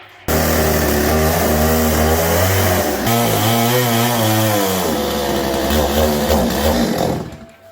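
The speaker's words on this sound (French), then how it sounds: "Il faut la tronçonneuse." A chainsaw revs and cuts steadily, loud and close, with a droning engine whine that shifts pitch as it bites into wood.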